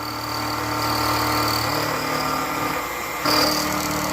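A milling machine with a sharp carbide cutter machines parts in a shop, giving off a steady, fairly loud mechanical whine with a sharper high tone that swells near the end.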